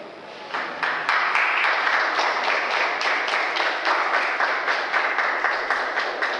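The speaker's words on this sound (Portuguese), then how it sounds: "Você pode aplaudir Jesus?" A church congregation applauding during a service in Rio de Janeiro, building quickly into steady, dense clapping from a large crowd in a reverberant hall, with no talk.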